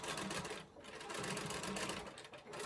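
Sewing machine running steadily while double stitching a cathedral window quilt, a continuous close, moderately loud mechanical whir with a brief dip partway through.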